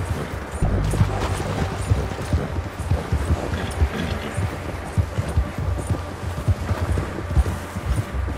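Horse hooves clip-clop steadily in Red Dead Redemption 2 as a rider travels toward a stream, a brisk, even rhythm of close, distinct hoofbeats with no talking.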